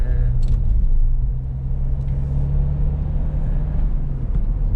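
A Toyota car cruising along, its engine giving a steady low rumble and drone from inside the cabin, constant and moderately loud with no talking.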